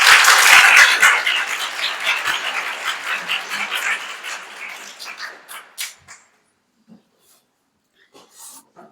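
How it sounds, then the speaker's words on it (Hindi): An audience at a Republic Day music gathering breaks into dense, loud applause that gradually fades over several seconds, leaving near silence with a few scattered faint sounds at the end. "सभी के लिए पहले एक बार आप लोगों के लिए तालियां"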